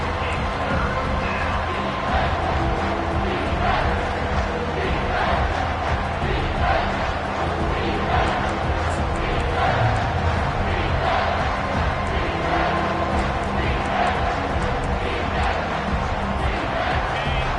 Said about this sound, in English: this crowd will pull out a vocal cord to help this defense